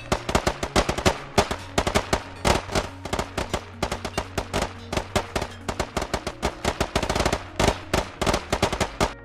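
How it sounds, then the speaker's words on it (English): Rapid gunfire from several weapons crackles almost without pause during a team firefight exercise, shots overlapping in dense, loud bursts. "The whole intent is to ensure there's no lull in the gunfire, thus talking guns."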